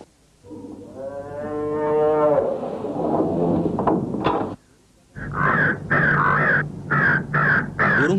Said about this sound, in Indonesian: Burung gagak itu datang dan mematuk di bagian perut.